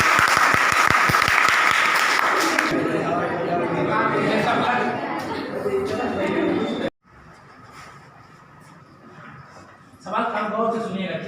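Students and audience at a girls' inter college event in Khurhat, Mau burst into loud, dense clapping that lasts a few seconds, then fade into crowd chatter and quieter murmuring before voices swell again.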